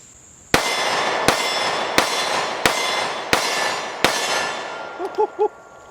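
Six evenly spaced, loud pistol shots from a Kimber Solo Carry firing Sig Sauer V Crown 124 grain jacketed hollow points crack one after another, each with a short ringing tail, ending with a few faint metallic clinks.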